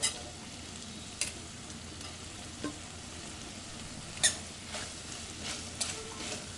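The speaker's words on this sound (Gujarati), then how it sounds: "બરાબર મિક્સ કરી અને પણ 5 મિનિટ સુધી ચડવા દઈશું ડુંગળીને." Onion frying with already cooked potatoes for Gujarati bataka pauva, a steady soft sizzle under scattered scraping stirs and a few louder clinks of the spoon against the pan, with no talking.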